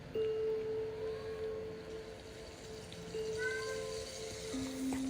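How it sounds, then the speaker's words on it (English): Faint cat meows rising and falling in the background of a quiet indoor room, a few brief calls over a low steady hum. "You might hear the animals in the background."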